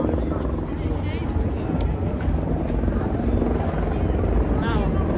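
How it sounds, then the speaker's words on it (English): Helicopters flying overhead above the Las Vegas Strip on New Year's Eve, a steady low rotor drone over street ambience, with people talking nearby throughout. "See some helicopters overhead."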